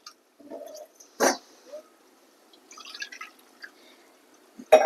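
Water is poured from a glass into a pot of rice and white chana, heard as sparse splashes and drips with a couple of sharp sloshing bursts and quiet gaps between them.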